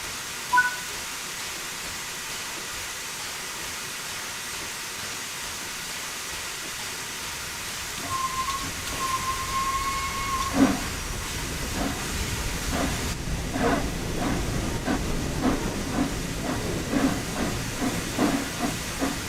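Flying Scotsman steam locomotive pulling away from a standstill in Train Sim World 4, steady hiss of steam building, then rhythmic chuffs growing clearer and more regular as it gathers speed.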